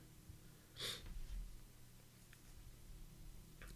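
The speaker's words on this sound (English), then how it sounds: "That's me sniffling." A person sniffles with a runny nose, one short sharp nasal intake near the start followed by quieter breathy traces, close and faint over a low steady room hum, alone with no talking.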